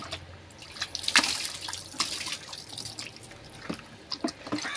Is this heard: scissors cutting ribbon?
no